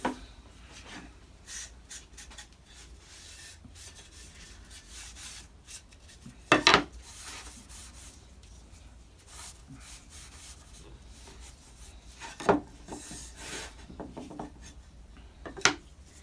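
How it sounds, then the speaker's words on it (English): Cloth wiping excess finish off a wooden wine bottle holder, a quiet continuous rubbing and swishing with a few sharper scrapes and knocks, close by and steady. "whatever the wood doesn't soak in, you'll want to wipe that off"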